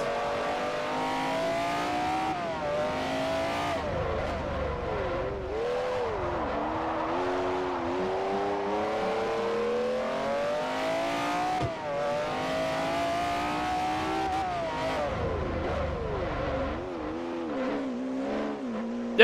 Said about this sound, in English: One hell of an engine noise.